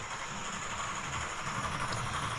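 A Midland Railway model locomotive runs along its track with a steady, soft mechanical whir and faint hiss, continuous and fairly quiet, with no talking.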